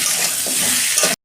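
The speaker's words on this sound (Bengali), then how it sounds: "আলু পটল আমার ভাজা হয়ে গেছে" Potatoes and pointed gourd fry in a wok with loud, close, continuous sizzling and a couple of stirring scrapes, ending abruptly.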